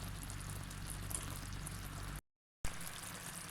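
Sugar syrup cooking with grated coconut for burfi, a close, continuous bubbling simmer with soft crackle, broken by a short silent gap before the boiling picks up again.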